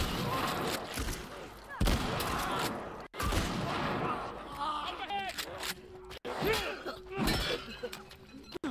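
Gunfire rings out in The Last of Us, close sharp shots in irregular bursts with crashing impacts, mixed with a player talking and game character voices.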